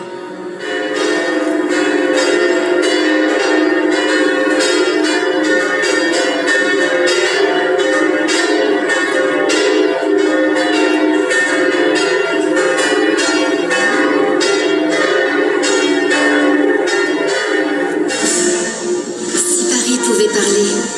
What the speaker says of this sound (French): à l'appel des cloches de la tour nord